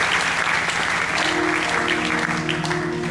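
A church congregation claps and cheers at a sermon, a continuous loud wash of applause with a sustained tone humming beneath it.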